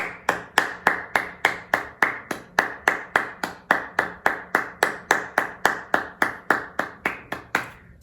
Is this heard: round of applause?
yes